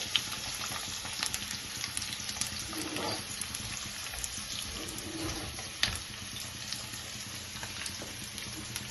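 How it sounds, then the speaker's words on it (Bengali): Taro stolons fry in a pan with salt and turmeric over a low gas flame, giving a soft, continuous sizzle throughout. A voice speaks quietly over it. "দিয়ে নুন হলুদ দিয়ে এখন ভাজবো"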